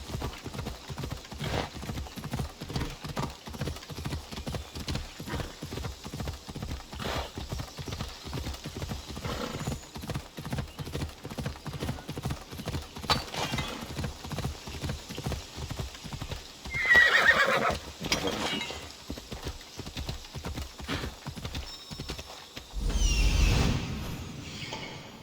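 A horse in the game Assassin's Creed Odyssey gallops with steady rhythmic hoofbeats throughout, broken by two loud neighs or whinnies, with faint talk in the background.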